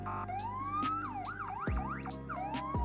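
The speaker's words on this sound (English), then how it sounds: "here are the sirens" A video game undercover police car siren cycles through rising and falling wails and quick yelps, loud and continuous, with a deep electronic hum underneath.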